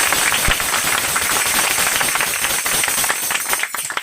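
A church congregation clapping loudly, a dense stretch of rapid hand claps that carries on steadily and tapers off near the end.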